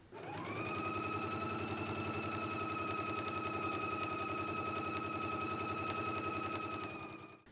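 Home sewing machine top stitching the back pattern pieces of a McCall's M8480 garment, a steady continuous motor hum with rapid needle chatter running loud and close for about seven seconds, alone without talk.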